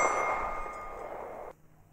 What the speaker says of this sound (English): it really provides a satisfying, almost bell-like sound when you hit it